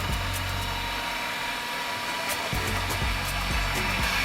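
An electric mixer runs on a slow setting through heavily spiced pumpkin cake batter, a continuous motor whir with a low hum and faint periodic clicks and bumps as the beaters turn.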